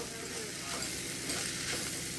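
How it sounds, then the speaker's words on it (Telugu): Poha (flattened rice) being stirred with a spoon in a hot pan, a continuous close scraping and soft sizzle with faint spoon knocks, no voices. "ఇప్పుడు ఒకసారి మంచిగా కలుపుతున్నా"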